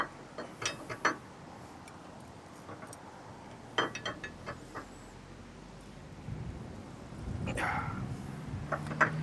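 A clamp is tightened onto the mount of a Parkit360 Force electric trailer dolly, giving sparse, quiet mechanical clicks and ratcheting clinks with pauses in between.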